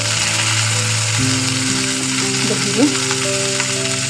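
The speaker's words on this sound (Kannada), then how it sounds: "ಈಗ ಬಾಣಲಿ ಇಟ್ಕೊಂಡಿದ್ದೀವಿ ಕಾದಿದೆ ಬಾಣಲಿ ಸ್ವಲ್ಪ ಎಣ್ಣೆ ಹಾಕ್ಕೊತಾ ಇದ್ದೀನಿ" Oil heats in a hot frying pan while cooking mushroom gravy. It gives a steady, loud, continuous sizzle with a faint tonal hum underneath.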